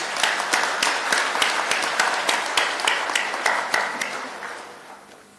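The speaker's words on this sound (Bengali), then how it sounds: "এই হাততালি আপনাদের প্রাপ্য।" An audience at an official public event in Bangladesh applauds police officers, with a run of separate, evenly spaced claps ringing out in a hall and gradually fading away over a few seconds.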